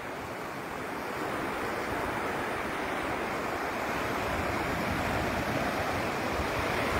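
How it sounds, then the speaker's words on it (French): Sea waves break steadily on a shore, a continuous loud wash of surf with some wind rumble, no voices. "Vous voyez les vagues qui sont derrière moi."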